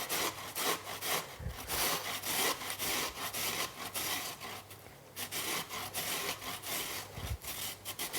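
A peeled sweet potato is rubbed on a kitchen grater in quick, continuous rasping strokes, quiet and close, with a couple of soft bumps along the way.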